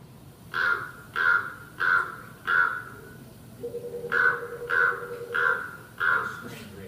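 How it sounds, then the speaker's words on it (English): A recorded female raven gives a series of eight evenly spaced hollow knocking calls, loud and close, with a brief low sustained tone between the fourth and fifth calls. "So I think that amounts to knocking, and that's a female raven."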